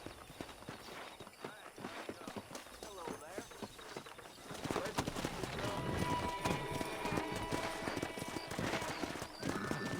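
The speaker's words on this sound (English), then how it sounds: "Let's see if we can't wrangle some horses." Horses galloping with rapid clip-clop hoofbeats and a whinny in the Western video game Red Dead Redemption, building louder after a few seconds amid game music and ambience.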